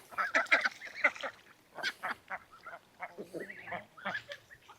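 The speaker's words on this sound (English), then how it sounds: "Just a little duck and chicken ASMR." Farmyard geese and ducks calling in a loose chorus, honks and quacks overlapping in short irregular bursts at moderate distance.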